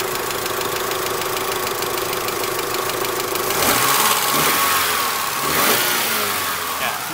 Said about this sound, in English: Cooling fan kicked on again.